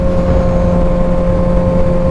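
A truck engine runs loud and close with a sustained throttle-held roar, a steady droning tone over deep rumble that holds without a break, alone with no talk.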